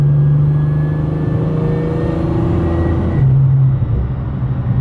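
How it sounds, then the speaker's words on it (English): A loud 1000-horsepower turbocharged Nissan GTR engine droning under load with a rising turbo whine, then a shift where the pitch drops and the engine pulls again. "the turbo noise is freaking insane in this car"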